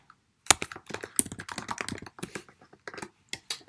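Computer keyboard keys clatter in quick irregular taps while HTML is typed in, steady and close with brief pauses between bursts of keystrokes.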